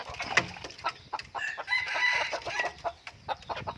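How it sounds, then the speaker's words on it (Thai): Small white-eared roosters (ไก่ต่อหูขาว, Thai bantam breed) crow among clucking chickens, with a long drawn-out crow in the middle and busy farmyard bird noise throughout. "คลิปนี้ก็มีไก่นะครับ"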